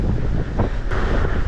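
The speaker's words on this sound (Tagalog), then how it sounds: "Grabe yung hangin." Strong, buffeting wind roars across the microphone during an outdoor mountain bike ride, a loud, continuous rumble with gusty surges and no voices.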